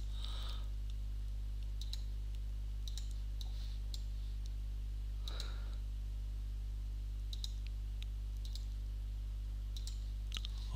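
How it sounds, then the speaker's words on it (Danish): Quiet, sparse left mouse-button clicks made while dragging a map in route-planning software, scattered singly and in small clusters over a steady low electrical hum. "hver gang når at vi flytter kortet, så trykker vi venstre museknap ned."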